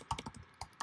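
Keys clack on a computer keyboard in a quick burst of sharp, close taps, a short pause, then a few more strokes.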